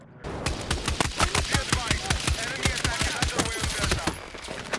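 DMR rifle fire in Battlefield 6, a rapid run of sharp, loud shots in quick succession, about twenty evenly spaced cracks over several seconds, close and punchy.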